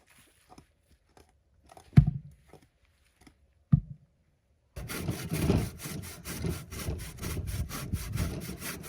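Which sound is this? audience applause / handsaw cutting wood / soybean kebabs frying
handsaw cutting wood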